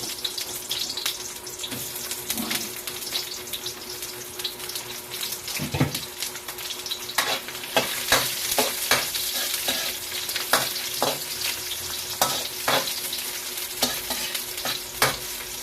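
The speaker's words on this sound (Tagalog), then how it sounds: "Lagyan natin ng mantika guys para igisa natin ang sibuyas sa ating pork stick." Onions sauté in cooking oil as a Filipino pork steak is prepared, a continuous frying hiss with frequent scraping stir strokes and clicks growing busier toward the end, close by and free of talk.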